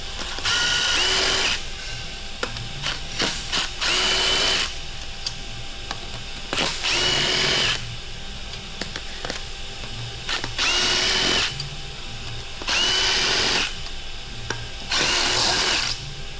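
Bolts being loosened on a Toyota 2GR-FKS engine with a power tool, heard as repeated short bursts of whirring and rattling, several seconds apart, with quieter clicks and workshop sounds between them.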